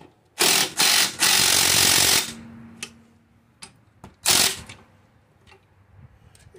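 Bolts are tightened into an aluminum engine on a Toro Recycler mower, with close, loud bursts of rapid ratchet clicking in three runs, then a few sharp knocks and clicks.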